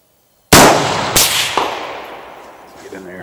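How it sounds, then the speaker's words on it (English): Two sharp rifle shots fired at a 300-yard target on a calm, windless day at a shooting range, the first loud crack followed about half a second later by a second, each trailing off in a long fading echo. "I'm going to shoot that top target first."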